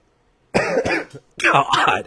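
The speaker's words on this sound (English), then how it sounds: "I cannot stop the cough." A person gives two harsh, close coughs in quick succession, each a rough burst of breath and throat noise, with a short gap between them.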